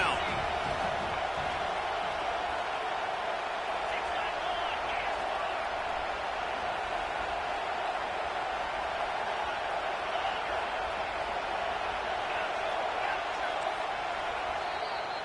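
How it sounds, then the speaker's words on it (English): Stadium crowd in a college football video game, Canes versus Arkansas, roaring on third down: a steady, loud, dense wall of crowd noise holding throughout, with no break. "Decibels rising as the crowd gets behind this defense on 3rd down."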